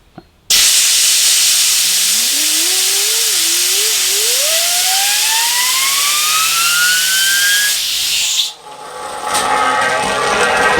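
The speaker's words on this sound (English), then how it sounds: "If I get my blowgun and squirt a bit of compressed air onto the rim of the ball race" Compressed air from a blowgun hisses loudly onto the rim of a ball race, spinning the bearing up into a whine that rises steadily in pitch. The blast cuts off abruptly and a fainter whir lingers as the bearing keeps spinning.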